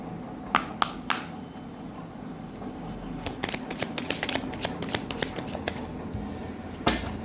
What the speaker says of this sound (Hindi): तो पहले यहाँ से 3 कार्ड ले लेते हैं